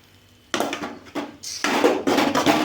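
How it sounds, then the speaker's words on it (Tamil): Perandai, adamant creeper, sautéed in a pan for chutney: a series of loud, close scraping and clattering strokes of a spatula against the pan, coming in irregular bursts over a faint sizzle. "பாருங்க, நல்லா வதக்கிட்டுருக்கோம்"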